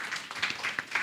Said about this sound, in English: Can we have a hand clap for